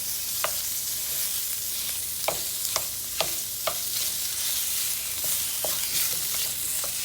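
Ground pork for Taiwanese spring rolls frying in a pan, a steady bright sizzle broken by scattered taps and scrapes of a spatula, close and clear with no voices.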